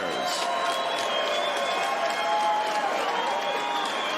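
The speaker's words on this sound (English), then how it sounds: "let's have a round of applause for these 2 bantamweight" Crowd at a BKFC bare-knuckle bantamweight fight applauds and cheers steadily, a dense, continuous wash of clapping and voices with no breaks, moderately loud and filling the arena.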